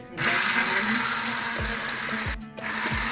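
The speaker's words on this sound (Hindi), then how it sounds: "उसके बाद ब्लेंडर जग में डालकर 1 से 2 चक्कर देंगे तो ये अच्छे से पिस जाएगा" A steel blender jug grinds hot masala with a loud, steady mechanical whir, cutting out briefly twice before starting up again.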